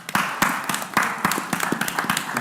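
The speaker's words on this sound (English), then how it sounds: "Let's give them another round of applause" Round of applause at a city council pre-council briefing in Tuscaloosa, a room of people clapping in fairly sparse, uneven claps with a few sharper hits, moderately near and steady for the whole stretch.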